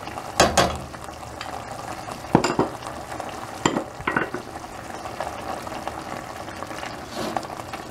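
Tomato paste is stirred into a sizzling frying pan, a steady fry punctuated by several scraping, clattering spoon strokes, close and fairly loud.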